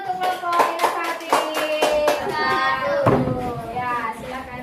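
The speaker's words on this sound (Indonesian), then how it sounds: "Ya, berikan tepuk tangan untuk kelompok inovatif." Students in a classroom applaud a group, a short burst of clapping under overlapping voices, the claps uneven and close.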